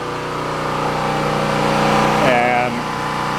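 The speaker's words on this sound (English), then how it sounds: "And amazingly, it's a very good generator." A portable generator runs steadily with a continuous mid-pitched engine drone, loud and close, while someone talks over it.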